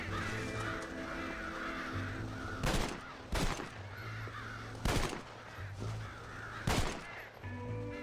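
Crows cawing in the video game Red Dead Redemption, harsh calls repeating over ambient outdoor noise, interrupted by several sharp loud gunshots.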